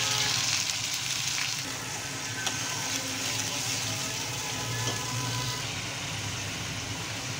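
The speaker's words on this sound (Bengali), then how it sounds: "আমি এবার বাটা মশলাগুলা একসঙ্গে একটু তেলে ভেজে নেব।" Ground spices with cumin, ginger and garlic fry in oil in a pan, a steady loud sizzle and hiss running continuously without pause.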